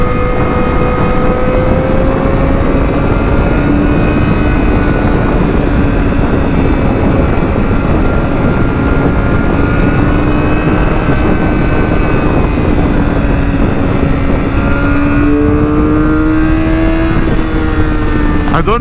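Motorcycle engine droning loud and steady while riding on a road, its pitch gently rising and falling as the throttle opens, with wind rush throughout.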